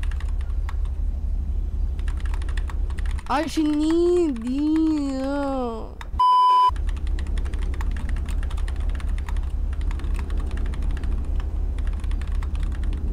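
Fingers tap out a message on a keyboard in quick, steady clicks that run throughout, briefly joined by a speaking voice and a short electronic tone.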